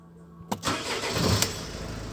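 A 2007 Mercedes-Benz Vito 639 van engine cranks and starts with a sharp burst at about half a second, then settles into a steady close idle that runs to the end.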